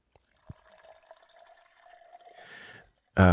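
A drink poured from a bottle of spirits bought at a distillery, a thin steady trickle with a faint clink at the start, growing brighter and splashier near the end before a sudden loud burst closes it.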